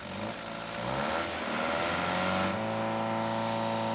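The engine of a homemade fire truck revs up as its water pumps start, a loud, steady droning rise with a whining, shifting pitch and no talk.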